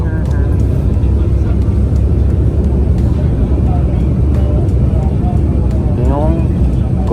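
Steady loud engine and wind roar at Caticlan Airport (Godofredo P. Ramos Airstrip, Boracay), with an airplane on or near the runway, heard under continuous nearby talking.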